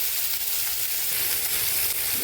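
Chopped tomatoes fry with salt in a pan for kadalai paruppu kuttu, giving a steady, close hiss of sizzling with no talking.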